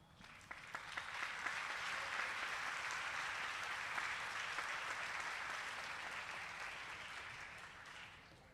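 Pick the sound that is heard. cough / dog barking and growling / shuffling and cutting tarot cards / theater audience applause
theater audience applause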